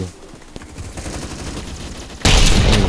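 Gunfire in the online shooter Phantom Forces: scattered shots and distant battle noise build gradually, then give way to a sudden loud, dense burst near the end.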